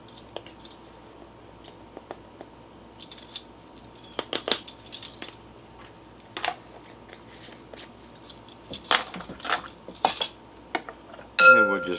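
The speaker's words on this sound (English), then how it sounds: "And we'll just give that a stir," Granulated sugar and ground cinnamon being stirred with a utensil in a bowl, scattered light clinks and scrapes, sparse at first and then busier toward the end, with no voices.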